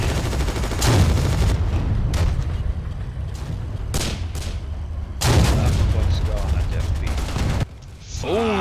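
Gunfire and tank shell blasts in WWII Online crack out in repeated loud bursts, with heavy booms at intervals and mechanical clatter between them.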